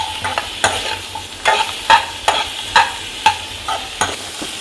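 Chopped tomatoes and garlic sautéing in a pan, a steady sizzle broken by regular scraping stirs about every half second, close up with no talk.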